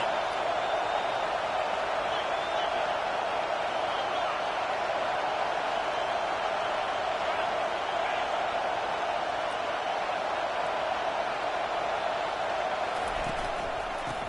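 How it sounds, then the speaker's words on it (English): A stadium crowd in a football video game roars steadily on third down, a dense, constant wash of cheering noise throughout with little variation. "Decibels rising as the crowd gets behind this defense on 3rd down."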